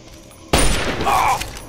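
A single loud, sharp gunshot in Fallout 3 bursts after half a second of quiet, its blast and debris rumble ringing on for about a second.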